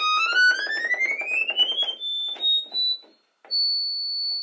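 An accordion plays very high notes, a thin piercing tone that slides steadily upward and then holds shrill sustained pitches with short breaks between them. It is close and fairly loud, and no one speaks.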